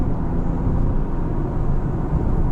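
A Genesis GV70 SUV accelerates with a smooth, continuous low engine and road rumble heard from inside the cabin, steady and fairly loud throughout.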